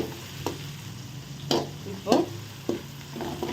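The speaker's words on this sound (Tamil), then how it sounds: "நல்லா வதங்கிட்டு கோல்டன் கலராக மாறி வந்துருக்கு" Onions or aromatics sauté in a pan on the way to golden for tomato thokku, a soft continuous sizzle broken by several sharp scrapes and clanks of a spoon stirring, with no talking.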